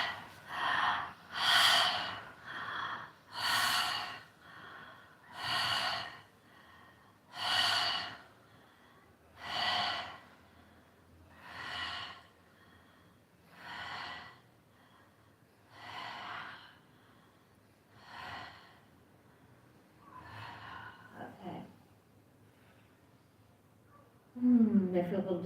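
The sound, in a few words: deep breathing during a meditation exercise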